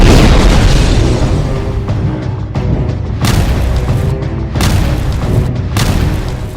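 Heavy booming blasts from attack footage, reportedly Hezbollah strikes on Israeli forces: a loud, continuous low roar broken by several sharp bursts at intervals, with no talk.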